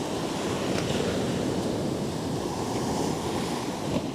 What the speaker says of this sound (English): We've got a light west-nor'wester blowing this morning.